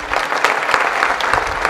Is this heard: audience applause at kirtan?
yes